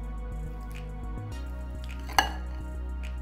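Chopped onion and bell pepper are stirred together with spices for tandoori paneer tikka. Soft, faint scraping and shuffling over a low hum are broken by one sharp utensil clink midway.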